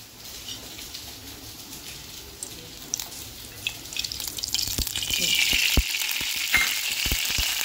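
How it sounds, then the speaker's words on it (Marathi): Oil heating in a kadhai, a low steady sizzle that swells louder and brighter partway through, broken by a few sharp crackles and pops near the end. "कढईमध्ये तेल टाकते"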